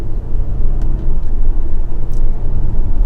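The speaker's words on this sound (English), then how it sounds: "Let's feel out this four-cylinder." A 2022 BMW X3 xDrive30i with a four-cylinder engine and all-wheel drive accelerates in manual mode, a steady low engine rumble and road noise heard from inside the cabin, with no voices.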